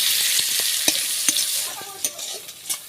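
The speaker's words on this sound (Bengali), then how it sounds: "কুচনো পেঁয়াজ। পেঁয়াজটা হালকা লাল লাল করে ভেজে নেব।" Chopped onion frying in oil with dried red chili and five-spice (panch phoron) for a Bengali banana-flower dish: a bright sizzle with several sharp spatula scrapes and clacks against the pan as it is stirred.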